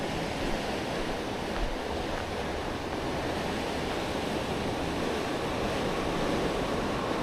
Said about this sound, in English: You can really hear the water right here.